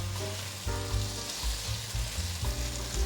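Bitter melon stir-fried in a pan with shiitake soaking water, a steady loud sizzle under bursts of spatula scraping and stirring, with no voices.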